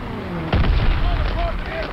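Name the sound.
artillery fire in video game Call of Duty WWII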